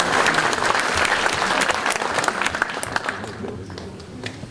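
An audience at a New Year's greetings ceremony claps for the municipal employees, a dense sustained round that thins and tapers toward the end, with a few scattered claps lingering.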